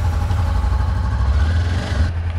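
A 2018 Honda CB500F motorcycle idles right after a cold startup, a steady low throbbing engine note with an even pulse, close and loud, with no voices.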